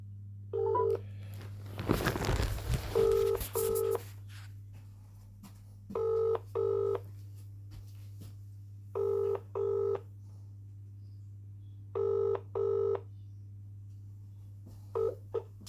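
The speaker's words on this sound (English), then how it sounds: "Ring you up, Christopher Browell." A phone dials a mobile number: short paired keypad tones come in evenly spaced bursts over a steady low hum, with a brief rustling clatter early on.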